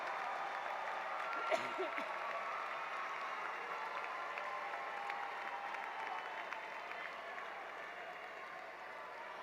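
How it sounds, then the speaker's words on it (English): A large graduation-ceremony audience at a high school applauds the graduates' parents, a steady, even wash of clapping heard from a distance that holds for the whole stretch. "Would you please stand and give them a round of applause for supporting you on your journey to a high school diploma?"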